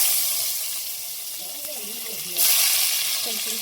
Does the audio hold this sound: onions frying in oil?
yes